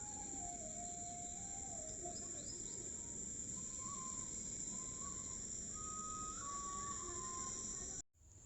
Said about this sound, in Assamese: তাই ইমান ধুনীয়াকৈ বাঢ়ি বজায় শুনকচোন